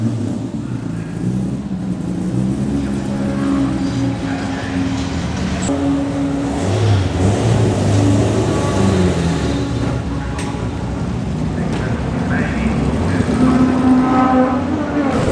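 A vintage Railton car's engine at a classic car meet at Oulton Park, a steady low rumble with rising and falling revs throughout, heard alongside background crowd chatter and nearby voices.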